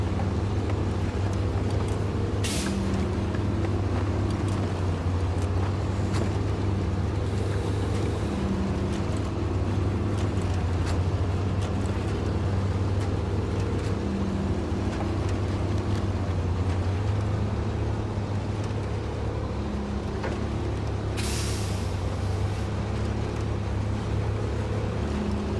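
A heavy truck engine strains and drones steadily in the SnowRunner video game, hauling a load of bricks on hard mode in Alaska, a continuous low rumble throughout with occasional brief higher-pitched bursts.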